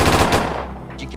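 Gunfire in a video game during an XP farming event, a loud, close burst of rapid shots that fades within about a second, with no one speaking over it.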